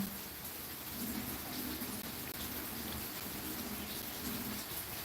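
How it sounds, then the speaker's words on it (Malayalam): Heavy rain pours steadily, a dense, even hiss of falling water that never lets up, with no voices. "ഇവിടെ നല്ല തകൃതിയായിട്ട് മഴ പെയ്തുകൊണ്ടിരിക്കുന്നുണ്ട്"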